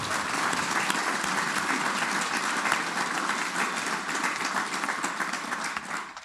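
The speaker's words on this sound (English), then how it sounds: "So one more round of applause for the families and friends out there." A large graduation ceremony crowd applauds for families and friends, dense, steady clapping filling the hall from start to finish at a loud, even level.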